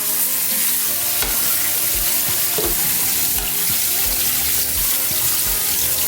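Water runs and splashes steadily while pig's tail is drained and washed in a pot, with intermittent clunks and stirring, close and continuous, no talking.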